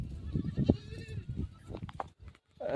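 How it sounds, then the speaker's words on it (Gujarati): A goat with an injured leg, out with a village herd, bleats in a few short, wavering cries against a faint outdoor background. "આ ઓલી બકરી છે"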